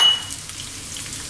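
Chopped onions sizzle gently in olive oil in a pan or wok, a steady soft frying hiss close by with no talk.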